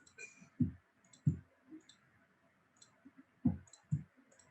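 Sharp mouse clicks on a computer during Photoshop editing, a handful of distinct taps arriving irregularly, some in quick pairs, fairly close and clear over a quiet room hum with no talking.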